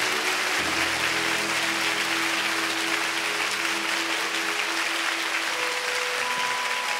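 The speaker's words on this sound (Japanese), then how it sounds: "今一度盛大な拍手をお願いします" Sustained, dense applause from the audience at a Code Geass anime birthday event fills the room steadily and evenly, with faint tones of music underneath.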